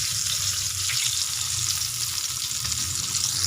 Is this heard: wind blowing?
no